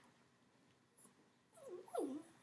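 A dog gives soft whimpering whines, quiet and close, coming after a near-silent start and rising in two short bursts toward the end.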